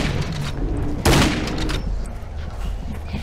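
Gunfire in a horror video game on the Nintendo Switch: a single loud, sharp shot cracks out over a steady bed of game ambience, followed by lingering low rumble.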